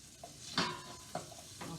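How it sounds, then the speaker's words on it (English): Beef shanks hit a hot frying pan, and a few sharp sizzling bursts flare up and fade between quiet gaps, close and fairly soft. "we're going to give this meat a nice sizzle"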